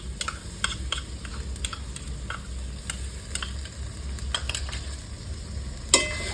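Onions with ginger-garlic paste and spices fry in a pan for a spicy meat curry, a low sizzle broken by sharp spoon scrapes and taps against the pan, with a louder clatter near the end and no talking.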